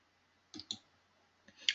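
Computer mouse clicks while saving settings in financial planning software: two quick close clicks, a pause, then two more, sharp and isolated in near silence.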